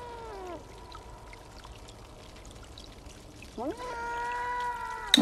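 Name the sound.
cat meowing in a video game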